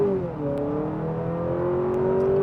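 2025 Honda Accord Hybrid Touring accelerating onto a multi-lane highway, a steady engine and motor drone rising slowly in pitch, close and continuous with no talk.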